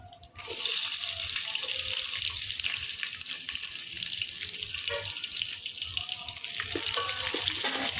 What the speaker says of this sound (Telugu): కొంచెం వేగినాక ఉల్లిగడ్డ వేస్తున్నాను